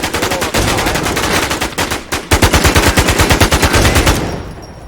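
Rapid bursts of automatic gunfire from a video game fill the scene, loud and dense, with fast repeated shots and a brief pause before another sustained volley.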